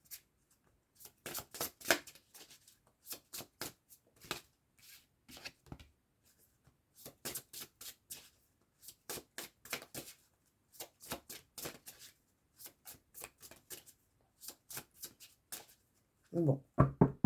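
Tarot cards for an April reading are shuffled in repeated short bursts of crisp riffling and slapping, with brief pauses between them and a louder flurry at the end.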